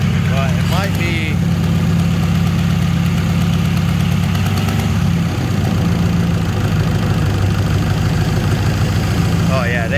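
A Chevrolet S10 engine fitted with Holley Sniper EFI idles loudly and steadily nearby, a continuous low rumble with a slight knocking texture, while a person talks over it at times.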